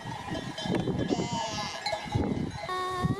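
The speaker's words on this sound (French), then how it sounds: "le berger sur le côté avec son labri qui garde ses moutons" Sheep bleat in overlapping calls from a flock nearby, watched by a shepherd with his Briard dog, with a cowbell clanking and a voice murmuring faintly in the background.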